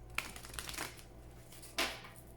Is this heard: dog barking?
no